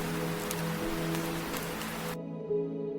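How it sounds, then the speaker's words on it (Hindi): Heavy rain pours in a dense, steady hiss throughout in a cartoon story scene, then cuts abruptly to a quieter low background near the end. "बारिश भी तेज थी"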